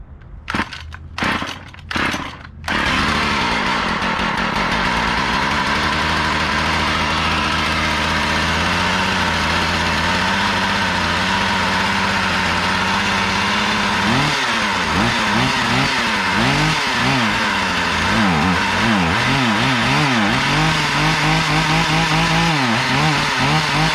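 A Husqvarna 440 X-Torque chainsaw with a replaced carburetor, first a few sharp pull-cord tugs, then the engine catches and runs loud and close, idling steadily and later wavering in pitch, its throttle not connected.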